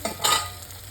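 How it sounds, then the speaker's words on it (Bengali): Potatoes frying in oil in a pan, a brief hiss of sizzling with a quick stir-scrape and a short louder burst in the middle, close and moderately loud. "লাল লাল করে ভাজা হয়ে যায় আলুটা"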